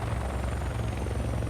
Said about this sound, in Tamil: ஹெலிகாப்டர் லேண்ட் ஆக முடியாமல் லேண்ட் ஆகுது.